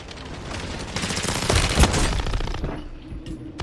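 Rapid bursts of gunfire in Warzone 3 on Rebirth Island, with an M16 conversion kit in play, build into a loud, dense volley that peaks midway and then thins out into scattered shots.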